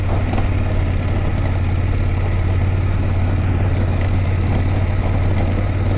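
BMW F850GS motorcycle engine idling close by on an off-road dirt road, a steady loud low rumble that holds unchanged throughout with no voices.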